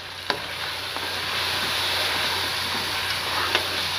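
Cumin powder and garam masala roast in a hot pan with a steady loud sizzle, broken by a few sharp scraping taps of a stirring spoon, close up with no talking.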